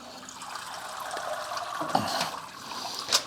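A shrimp boil basket is lifted from a pot of water seasoned with crab boil and drains, giving a close, steady rush of running and trickling water with a couple of splashy surges.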